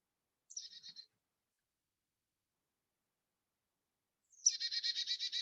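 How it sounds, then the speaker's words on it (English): A Carolina chickadee gives a brief high note, then after a pause a longer run of buzzy, evenly repeated notes, clear and fairly soft in silence. "This is the Carolina chickadee"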